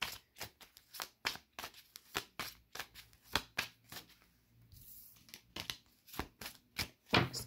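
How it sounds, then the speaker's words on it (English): Tarot cards being shuffled by hand, a steady series of crisp riffling bursts close to the microphone, roughly two per second, with no talk. "Let's get a good shuffle."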